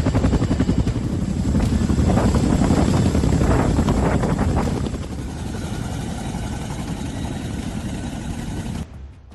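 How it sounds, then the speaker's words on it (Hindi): A Chinook military helicopter flies at the Kedarnath shrine, its twin rotors producing a loud, steady thudding roar mixed with wind noise that eases slightly midway before cutting off. "सेना के चिनूक हेलीकॉप्टर की मदद से इस धाम में निर्माण कार्य अब भी जारी है"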